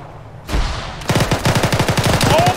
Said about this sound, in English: we're taking heavy fire from the compound to our direct south